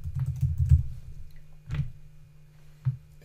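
A password is typed on a computer keyboard: a quick burst of soft, close key taps, then two more isolated presses after short pauses, all quiet in a still room.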